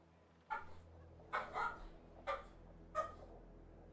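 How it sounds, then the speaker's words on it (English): A dog barks in another room, four or five distant, muffled barks spaced about a second apart over a faint steady hum. "My dog is barking in another room for some reason."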